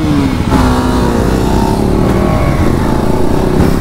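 Several motorcycles ride in a line down a road during an Independence Day group ride, a continuous loud engine drone with wind rush, heard close up from one of the bikes.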